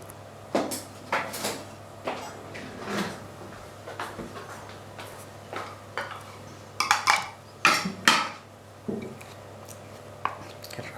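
A small spatula spreads raspberry granola bar mixture in a pan, giving a string of close, sharp scrapes and clinks in uneven strokes with short pauses between them.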